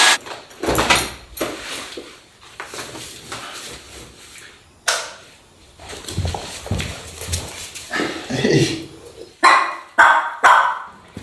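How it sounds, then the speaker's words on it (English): A small dog barks in several sharp, separate bursts, close by, among footsteps and knocking noises during a walk, with quiet stretches in between. "this is like the cutest dog ever"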